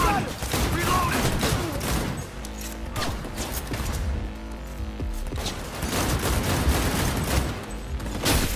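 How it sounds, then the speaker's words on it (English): Gunfire in Cyberpunk 2077 erupts from several directions at once, loud overlapping bursts and single cracks with crashing impacts, continuing in waves over several seconds while a player talks intermittently underneath. "I'm being shot from multiple directions here"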